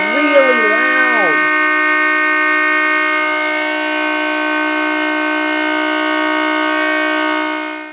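A loud, steady mechanical siren wail from a 3D printed tornado siren driven by a Dremel, holding a constant pitch after a brief rising warble at the start, droning on for several seconds.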